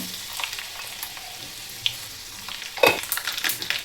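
Crushed garlic and mustard seeds hitting hot oil for a sambar tempering, a soft sizzle building into a sharp, loud crackle and spatter near the end.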